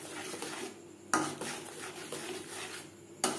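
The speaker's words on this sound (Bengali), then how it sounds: "মশলার সাথে গুঁড়ো মশলা বেশ ভালো করে মিক্সড করে দেব।" Ground spices are worked into spice paste in a pan for a Bengali hilsa curry, with soft scraping and a few sharp clinks of a utensil against the metal, close and fairly quiet.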